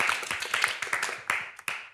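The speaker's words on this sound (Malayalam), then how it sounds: "കൈയടി കൊടുത്തേ, ക്ലാപ്പ് കൊടുത്തേ." An audience at a Malayalam television children's programme claps in applause, a short burst of quick, uneven hand claps at close range.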